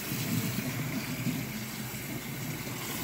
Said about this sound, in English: then we're going to pour it slowly into our colander